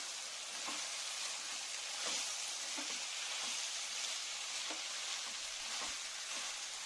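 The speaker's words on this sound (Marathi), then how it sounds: "आता आपण त्याच्यामध्ये मॅरिनेशन केलेले सोडे टाकून देणार आहोत" Marinated dried shrimp with garlic and spices frying in hot oil in a pan, a steady, dense sizzle throughout with faint stirring scrapes, close and continuous.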